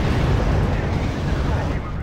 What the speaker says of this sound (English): The heavy artillery, that shit rocks the earth.